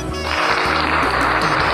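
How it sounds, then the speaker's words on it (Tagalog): Applause from a small group during a livestreamed demonstration of wiring a condenser microphone cable, dense steady clapping filling the short moment with no talk over it. "Wala ba palakpak dyan?"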